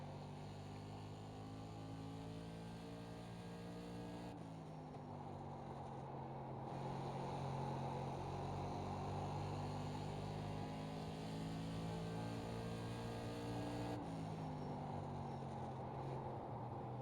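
An SK Modified race car engine in iRacing drones steadily through a lap at Stafford, holding a strong harmonic tone. The pitch shifts as the car lifts and reaccelerates around the corners, and no one talks over it.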